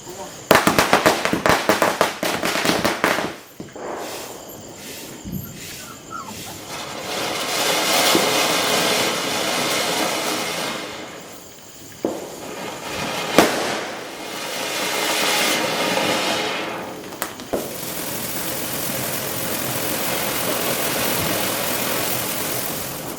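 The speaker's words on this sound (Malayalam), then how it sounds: "ഞങ്ങൾ പടക്കമൊക്കെ പൊട്ടിക്കാനായിട്ട് പോവുകയാണേ" Firecrackers set off for Vishu burst in rapid crackling volleys, loud and close, then sharp single bangs follow over a hissing background with people talking.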